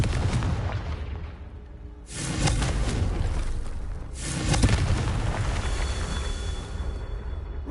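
Confringo spell explosions in the Hogwarts Legacy video game: two loud, booming blasts a couple of seconds apart, each a sudden burst that fades into a rumbling tail, with some ringing afterward.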